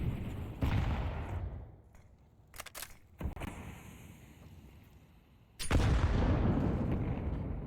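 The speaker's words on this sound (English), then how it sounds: "Decent nade damage there." A grenade explodes in Counter-Strike on the map Mirage as a loud sustained blast that cuts in suddenly near the end, after an earlier roar and a few quick sharp cracks of gunfire.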